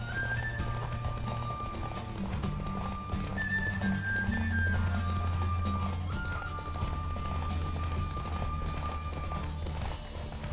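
Steady rhythmic hoofbeats of a galloping horse in The Witcher 3 video game continue throughout over a constant musical backdrop with sustained tones.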